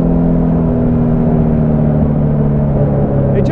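A Caterham 310 S, a very light sports car with a small engine, accelerates with a steady, loud, close engine note carrying strong harmonics throughout.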